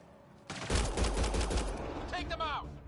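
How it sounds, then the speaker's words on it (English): Rapid burst of gunfire in a PS4 shooter game, loud and close, with a quick volley of shots followed by a voice speaking over the fading noise. "They shot him!"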